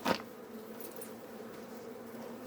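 Honey bees buzz around their hives in an apiary, a low, steady, moderately faint drone with a few sharper bumps at the start and end.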